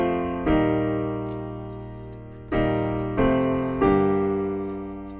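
A piano plays the opening chords of a pop song. A few sustained chords are struck alone and clearly, each ringing and decaying before the next one.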